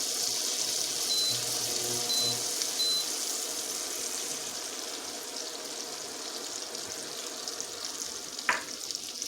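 Melted butter sizzling in a pan with finely chopped sun-dried tomatoes in olive oil, a steady close frying hiss with faint clinks and a short sharp tap near the end, no talking.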